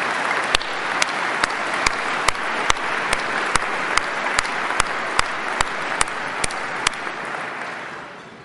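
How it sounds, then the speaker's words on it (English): A banquet-hall audience at a political party dinner applauds the organizing committee with steady, full clapping that fades gradually, while sharp clicks recur at regular intervals over the crowd. "if everyone could just give them a round of applause"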